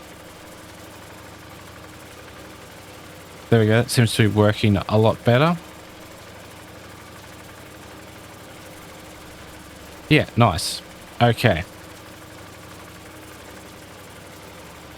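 A tractor pulling a mower whose blade digs into the ground on one side idles in a low, steady drone throughout, with people talking over it in two short bursts.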